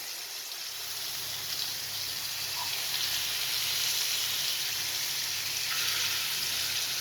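An egg fries in hot oil in a frying pan, giving a steady, close, even sizzle that runs unbroken from start to finish with no voices.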